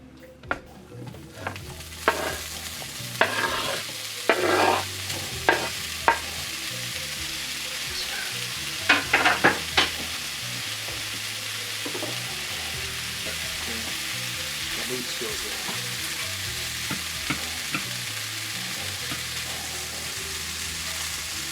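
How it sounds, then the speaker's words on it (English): Sausage sizzles and fries in a skillet over medium-high heat, a steady crackling hiss with occasional louder pops and stirring scrapes, close and alone without talk. "Now the sausage goes into the skillet over medium-high heat."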